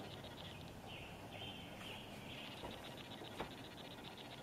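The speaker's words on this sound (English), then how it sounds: "now you get to hear the birds." Faint, distant birds chirp over a quiet outdoor hush, their calls thin and intermittent.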